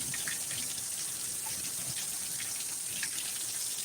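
Thunderstorm rain pours down in Needles, California, a close, steady wash of water with scattered sharper splashes and drips breaking through the constant hiss.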